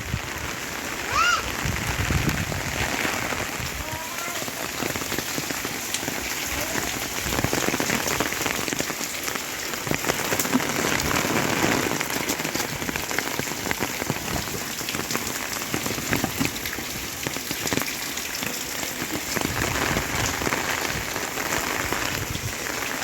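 Heavy rain pours down steadily, a dense, loud, continuous patter drumming on surfaces close by for the whole stretch, with no one speaking.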